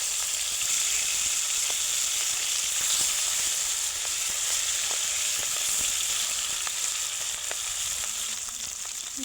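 Pieces of silver carp fry in hot mustard oil after being turned over, giving a steady, loud sizzle with faint crackles throughout and no talking.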